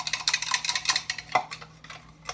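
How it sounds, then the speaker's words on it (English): A whisk beats cornstarch into tequila and orange juice in a bowl, giving rapid, close metallic clicking and scraping strokes in a quick steady rhythm, loud at first and then thinning out. "whisk that together"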